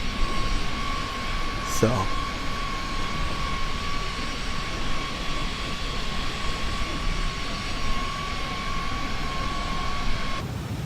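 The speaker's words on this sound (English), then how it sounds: "you can hear the wind." Steady wind and airliner engine drone inside Microsoft Flight Simulator, an iniBuilds A20N cruising at 37,000 feet, a continuous even hum with a steady tone and a brief sweep early on, with someone speaking briefly.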